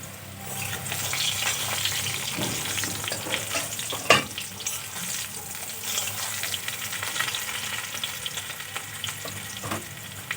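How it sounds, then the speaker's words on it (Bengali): Potatoes fry in hot mustard oil in a pan until browned, giving a steady close sizzle with intermittent stirring scrapes and one sharp clack, with no one speaking. "আমি কিন্তু আলুগুলোও খুব ভালো করে লাল করে ভেজে নিয়েছি।"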